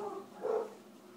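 A dog gives a single short, fairly faint bark in the middle, with a dull background hum around it.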